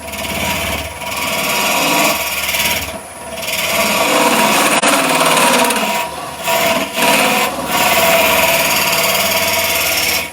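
A wood lathe spins steadily as a tool cuts and scrapes the inside of a leaning wooden garlic pot, giving a loud, close, continuous rasping whir with brief dips where the cut eases, and no talking.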